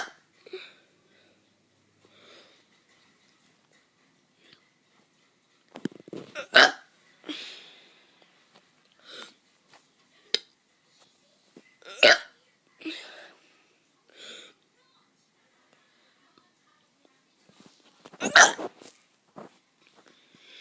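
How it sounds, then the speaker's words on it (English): A child gives a series of short, scattered burps and hiccup-like gulps, loud and close, with quiet pauses between them. "I'm gonna be doing some burps."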